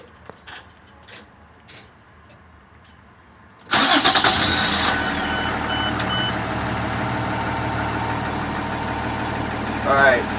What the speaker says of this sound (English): now I'm going to step on my bus and do a safe start of the bus